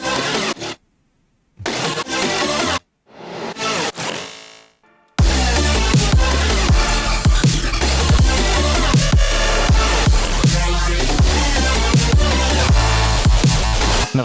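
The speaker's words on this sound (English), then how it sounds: "That bass and the 85 bass." Two synth basses, a Tosca bass and an 85 bass, play a song melody in unison, entering after a few stuttering bursts and then running steadily and loudly alongside a dense full mix.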